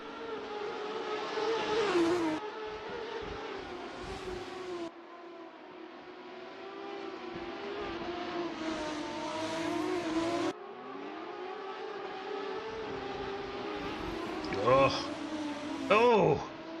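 Race car engines in a sim racing game at Monaco, steady high-pitched engine whine with shifting pitch as cars rev and change gear, held under ongoing commentary.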